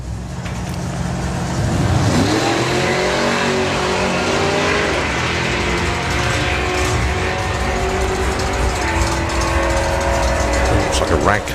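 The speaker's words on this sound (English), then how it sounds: "Steve Mitchell with the Snow White 57 Chevy" A 1957 Chevy drag car, painted snow white, runs a nine-second pass down the strip at about 140 mph during hot rod drags, its loud engine roaring steadily with rising harmonics under a commentator's voice.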